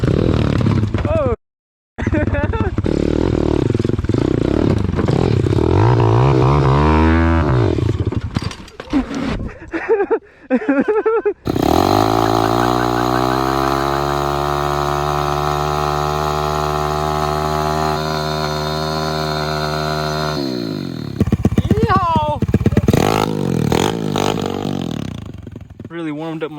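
A pit bike engine revs hard and then holds a loud, steady high-pitched drone before revving again, close by, with people talking and shouting over it.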